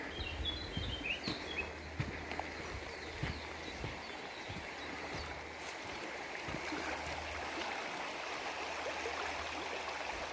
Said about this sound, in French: Une magnifique rivière.